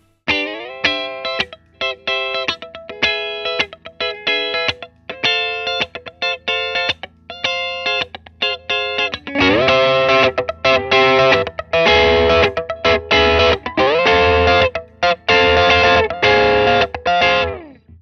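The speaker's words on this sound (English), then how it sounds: "I rolled the gain on channel 1 pretty much all the way back, and I got a really light drive" Electric guitar through a Victory V4 Sheriff preamp pedal with the gain turned nearly all the way down for light drive, played alone: sparse chords and single notes at first, then busier, fuller strumming with sustained ringing chords.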